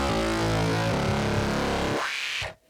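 A dense, buzzy synthesizer tone drones loudly and evenly, thick with harmonics, sweeping slightly before cutting off abruptly near the end.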